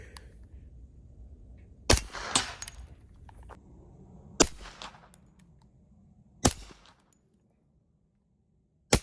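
Hi-Point JXP 10 pistol firing 10mm subsonic rounds, four sharp separate shots spaced a couple of seconds apart, each with a short ringing tail.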